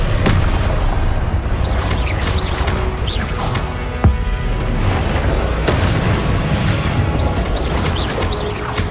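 Blasting curse explosions from the Hogwarts Legacy video game, with repeated booms and crashes bursting through a loud, dense wash of game sound and music that never lets up.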